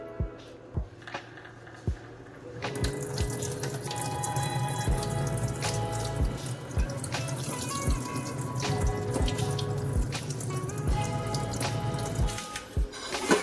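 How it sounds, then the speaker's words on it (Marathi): Water sloshes and splashes steadily as soaked sorghum grains are swished and rinsed by hand, punctuated by repeated sharp knocks against a container. "ही सर्व ज्वारी अशी पाण्यातून धुवून घ्यायची आहे"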